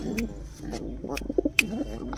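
Soft, low coos from Andhra pigeons at a loft, repeating a few times close by, with faint background chatter and a brief high chirp.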